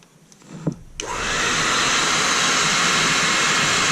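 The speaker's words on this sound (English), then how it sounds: "Now I am going to take my hair dryer and blow it back some more" A hair dryer switches on after a few soft clicks and blows with a steady, loud, broadband whoosh that continues without a break, used while tying a Sculpin fly.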